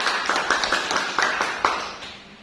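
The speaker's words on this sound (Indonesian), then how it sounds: "Mari kita aplaus dulu untuk semua kelompok" Applause for student groups in a classroom, a run of claps with sharp repeated hits, fairly close and moderately loud, fading toward the end.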